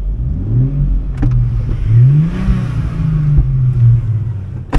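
A Toyota Hilux fitted with a 2JZ engine revs hard and up close, its deep rumbling note rising and falling through several throttle blips, with no talking over it.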